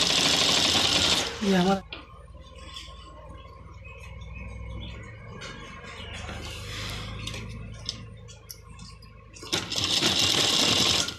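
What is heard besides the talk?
sewing machine stitching kurta hem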